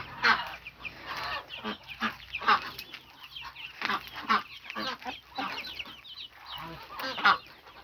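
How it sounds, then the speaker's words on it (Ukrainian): Chicks and hens clucking and peeping close by in a steady, busy chatter, with soft rustling and scratching beneath the calls. "Тут їм забот більше цим курчатам."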